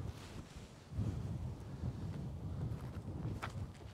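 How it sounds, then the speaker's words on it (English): Steady low buffeting wind noise from winds over 30 mph rumbles across the microphone on a disc golf course, growing stronger after the first second and continuing throughout. "Sorry if you hear a little bit of wind. It is really windy."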